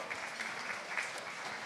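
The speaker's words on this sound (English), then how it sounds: "Let's give him a big round of applause as well." A summit audience applauds, a brief even burst of many hands clapping at moderate distance with no talk over it.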